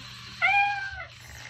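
A Chongker MateCat Pro robot cat gives one clear, drawn-out electronic meow, fairly close and alone against quiet background hum.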